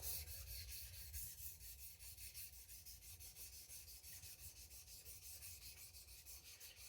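A kitchen knife is drawn over a Japanese natural whetstone (Kouzaki jnat) in a kasumi polishing pass, giving a quiet, even rhythmic scraping of regular back-and-forth strokes with no talking.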